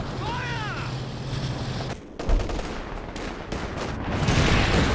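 Artillery fire in Company of Heroes 2 sounds as a rumble of distant blasts and crackling gunfire, with a sharp boom partway through, amid a busy battlefield soundscape.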